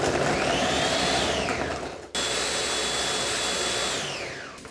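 The motor and fan of an ice cream maker churn watermelon ice cream with a loud, steady whirring drone. The pitch sweeps up at the start and winds down at the end, with a short dip in the middle.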